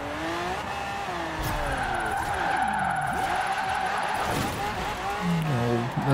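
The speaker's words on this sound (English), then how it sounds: "A definite drift bump there" A car drifts in Forza Horizon 4 with sustained tire squeal and skidding over a revving engine, pitch sweeping as it slides through the turn, loud and close, with a downshift near the end.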